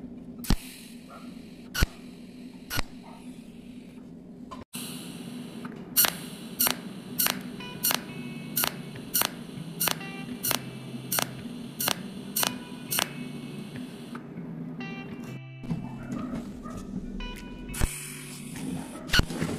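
A cold welding machine works on precision metal parts, firing a regular series of sharp clicking pulses over a steady low electrical hum.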